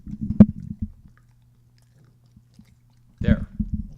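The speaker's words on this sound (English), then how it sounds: "Can you hear it crunching?" Crunchy chewing bites come in two short bursts, one early and one near the end, close and fairly soft, with a quiet gap between them.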